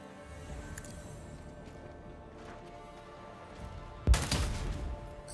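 A single loud burst of gunfire in the Dark Heresy video game, after a quiet stretch of low background hum.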